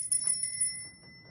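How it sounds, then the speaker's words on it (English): A small service bell rung at a dinner table gives one bright, sustained metallic ring with steady overtones that slowly fade, heard alone. "you would ring the bell"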